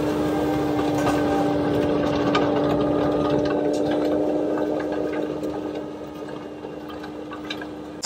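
CONETEKS landscaping attachment grinding vegetation into the soil, a loud continuous mechanical whir with a steady tonal hum and dense chattering texture, easing slightly toward the end, with no voices.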